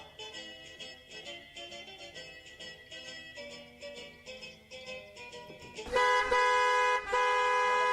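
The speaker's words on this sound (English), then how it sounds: "What a busy traffic on this Friday evening." Car horns honk in busy Friday evening traffic, first as a run of short rhythmic toots, then giving way to a loud, sustained blare that holds to the end.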